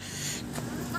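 Chicks and chickens cluck and peep nearby in a brief burst, mingled with a person speaking over them.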